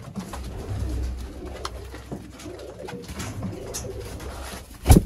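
A Sialkoti breeder pair of pigeons with green pearl eyes cooing softly and steadily close by, low murmuring calls throughout, with a sharper flutter or knock near the end.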